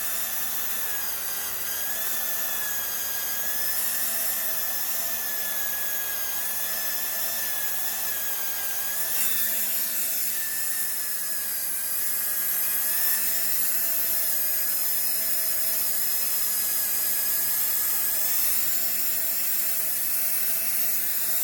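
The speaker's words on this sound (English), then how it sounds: "I'm applying a little more pressure and it will trim all this goofy stuff off the edge." A polymer clay pendant edge is trimmed with a tool that gives a steady, loud, high-pitched whine. The whistling tones waver slightly as pressure changes, running without a break and with no voices.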